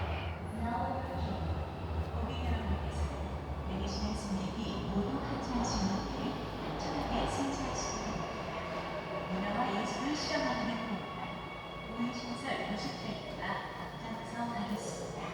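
A video game subway train rumbles steadily throughout, with a low continuous roar and faint higher squeals and clicks, while people talk softly in the background.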